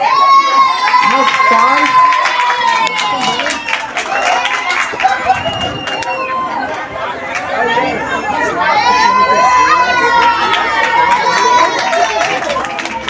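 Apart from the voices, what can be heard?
cheering crowd of supporters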